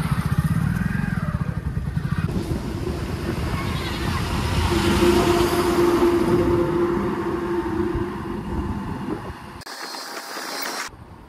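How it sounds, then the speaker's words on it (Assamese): Motorcycle ridden through the Tangni tea gardens after refuelling on a weekend ride, its steady engine drone and wind rush continuous and close throughout, ending with a brief louder burst of broadband wind noise. "বাইকত পেট্ৰল ভৰাই লৈ আমি টাংনি চাহ বাগিচাৰ মাজে মাজে গৈ আছোঁ"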